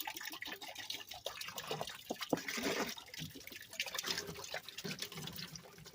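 Hydrogen peroxide poured from a bottle, a faint, close trickle and splash of liquid with uneven gurgles and drips over a few seconds.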